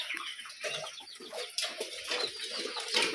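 Chickens clucking near a rooster in a rural yard under a cloudy sky, a steady run of close, busy clucks and cackles with no talking.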